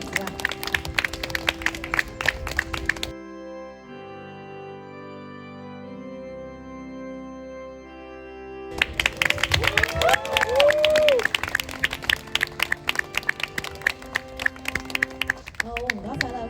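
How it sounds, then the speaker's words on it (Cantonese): Guests at a Hong Kong wedding ceremony applaud: brisk, crowded clapping, then a pause filled with soft music, then the clapping swells back louder and keeps going, with some cheering and voices mixed in. "掌聲唔好停啦！"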